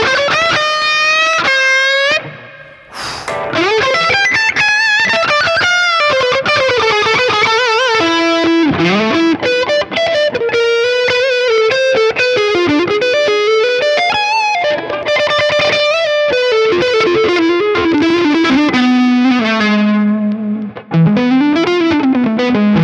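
An electric guitar through a Neural DSP Quad Cortex amp model, channel 2 with reverb, plays a continuous, effects-heavy melodic line with sustained notes, distortion and a washy reverb tail, loud and close throughout.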